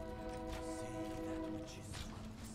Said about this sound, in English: I think you're just hearing the train.